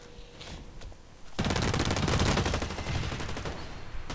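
Automatic weapon fire with heavy recoil in the online shooter Blacklight Retribution: a dense, continuous rattle of rapid shots that starts abruptly after a quieter lead-in and holds steady and loud to the end.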